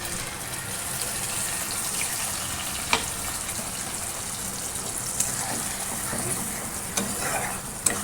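Potatoes frying in a pan with ground onion, ginger and garlic masala, a steady close sizzle with stirring scrapes and a few sharp clinks, continuous throughout.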